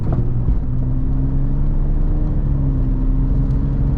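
A 1997 Jeep XJ Cherokee engine pulls steadily as it accelerates, a loud, continuous low rumble with a rising drone heard close from inside the cabin, with no talk over it.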